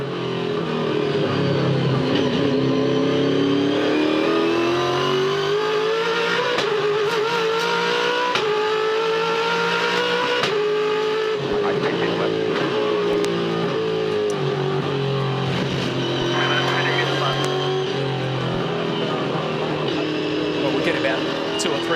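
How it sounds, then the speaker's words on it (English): Onboard a V8 Supercar lapping Sydney Motorsport Park with a driver at the wheel, the engine roars loud and close, rising and falling through the gears as it revs, with commentary talking over it throughout. "You can crank up the audio, sit back and enjoy a hot lap of Sydney Motorsport Park."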